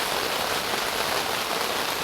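Rain falls steadily on a camping tent at Huntsville State Park in stormy weather, a dense, even patter close overhead that never lets up, with no voices.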